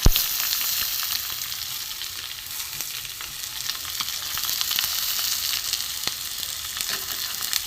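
Chopped onions frying in a pan of oil for a fish dish, a steady broadband sizzle that runs the whole time with a few faint clicks of stirring, close and fairly loud, with no voices.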